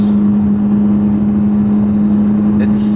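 Inside a moving Ferrari, a steady loud engine drone with a strong low hum comes from the rear, continuous and even, with a brief rattle near the end.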